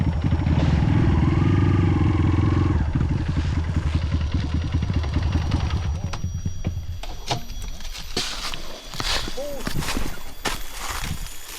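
A motorcycle with a punctured tire idles and clatters loudly up close in a Pahang forest reserve, the engine fading after a few seconds into scattered knocks and handling noises while people talk.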